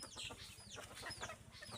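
Soft, rapid clucking from red junglefowl hens, a steady stream of short clucks with a few higher chirps, fairly quiet and close, with no talking.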